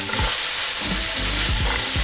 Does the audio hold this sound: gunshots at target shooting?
no